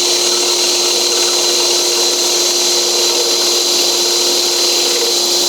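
Steady, loud motorized whir of a blower running continuously beside wooden automaton toy carving, with a constant high whine and a lower hum throughout, no talking.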